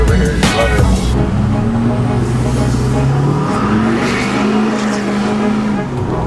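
A supercharged Chevrolet Tahoe's engine roars loudly and continuously, with rising and falling revs and a throaty, sustained note close by.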